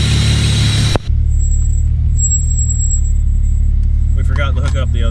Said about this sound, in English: All right, we're gonna let it warm up and take it for a little spin.